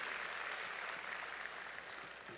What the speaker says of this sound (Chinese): 的确需要给我们的Petir胎盘素这个产品，这个伟大的产品一个掌声